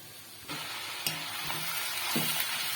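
Shark meat crumbled into sautéed onions in a pan, stirred with a few soft scraping strokes over a steady close sizzle of frying.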